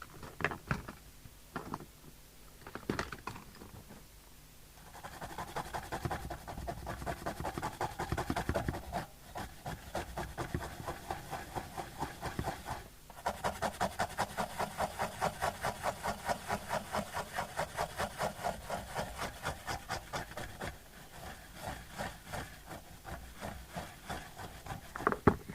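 A toothbrush scrubs a Midland 48 Excel CB radio with fast, rhythmic bristle rubbing that goes on in long stretches. Brief pauses and small knocks break up the scrubbing, and the scrubbing is close and fairly soft.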